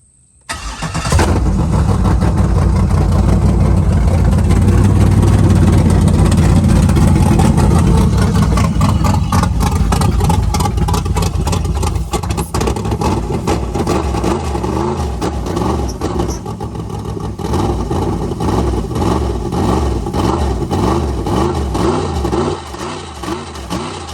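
A Hyundai Genesis running a Holley engine computer fires up and keeps running loud and close, its engine note rising and falling through repeated revs over a rough, throbbing idle.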